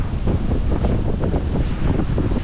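Strong wind buffets the microphone at a scenic outdoor spot in Indonesia, a loud continuous rumbling roar with gusty surges throughout and no other sounds.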